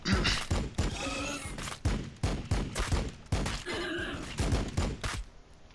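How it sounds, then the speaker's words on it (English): Overwatch gunfire from the Warhammer 40k Battlesector strategy game: a series of sharp, loud shot bursts and heavy thuds that repeat roughly every half second, some of them overlapping, with no speech. "I should see a lot more Overwatch shots coming out"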